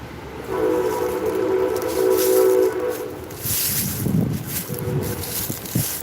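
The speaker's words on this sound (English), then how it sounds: "That sounds like the Amtrak going through." Amtrak passenger train passing on a main railroad line through a rural area, a loud sustained rumble with a steady horn tone building over the first few seconds, then rattling wheel clatter and scattered clunks as it goes by nearby.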